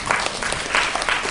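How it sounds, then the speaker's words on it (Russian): A concert audience applauding a chamber string orchestra in a brief, dense burst of clapping, loud and close, with no voices above it. "Такие продолжительные аплодисменты бывают только два раза в году"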